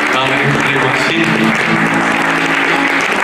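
Audience at a folk concert in Romania breaking into sustained applause, dense and loud throughout, with a voice speaking over the clapping.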